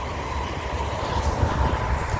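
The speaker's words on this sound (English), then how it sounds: "Here goes the high-speed train." A high-speed train rushing past, a steady broad roar with low rumble and a faint rail hum, continuous and fairly close for the whole stretch, with no talking.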